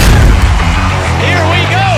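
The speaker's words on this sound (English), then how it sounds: "Fireworks on!" Fireworks booming inside an arena after a professional lacrosse game, dense loud bursts blending with a roaring crowd and whistling streaks, close and continuous.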